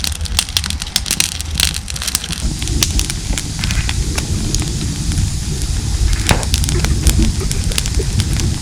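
A campfire of twigs crackles and pops with sharp, irregular snaps over a low roaring rumble, close and steady throughout.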